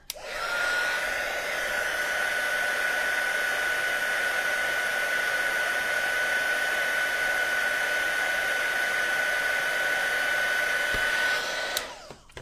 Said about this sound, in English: it typically removes actually very well with a heat tool. So I'm just going to lightly loosen that.